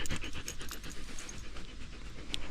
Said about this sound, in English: We've got a new dog.